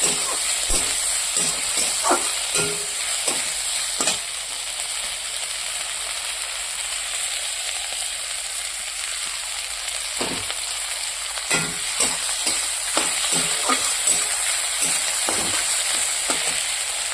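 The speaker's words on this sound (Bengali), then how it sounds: "এবার এখানে আমি পরিমাণ মতো লঙ্কা আদা দিয়ে দেবো দিয়ে দিয়েছি এবার একটু ভাজা ভাজা করে নেবো" Chilli and ginger fry in a pan with a steady, bright sizzle that runs throughout, punctuated by scattered taps and scrapes of stirring.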